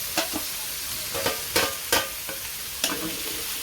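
Onion and spices fry in a pan with a constant sizzle. Sharp, intermittent stirring scrapes sound close by, and no one speaks.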